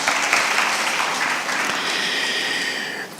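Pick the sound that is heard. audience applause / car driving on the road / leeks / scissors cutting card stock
audience applause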